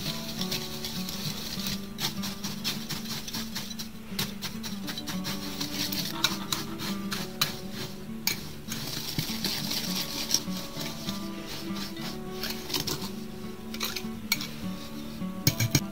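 Powdered milk and instant coffee stirred together in a bowl, a steady clinking and scraping of a utensil against the sides, close and continuous for the whole stretch with no talking.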